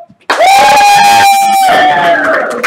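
A studio audience on a live-streamed game show cheers and shouts at once, bursting in suddenly and holding loud and close for a couple of seconds.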